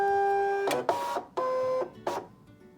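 ScanNCut cutting machine loading its mat, sounding a sustained electronic beep tone followed by three short whirring motor bursts, close and clear in a quiet room.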